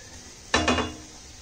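A spoon scraping and clinking against a pan while paneer masala is stirred with salt, one sharp metallic knock followed by a short scrape, alone in a quiet kitchen.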